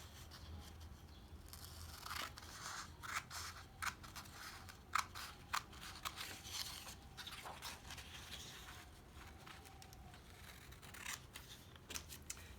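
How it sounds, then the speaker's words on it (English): Scissors snip through sheets of yellow and purple craft paper for a handmade Father's Day card, with a run of quick, close, crisp cuts and soft paper rustles. "cut out the yellow paper so that it's bigger than the purple"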